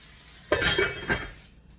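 A utensil scrapes and clinks against a pan while hash potatoes are stirred, two or three brief strokes over a quiet kitchen background.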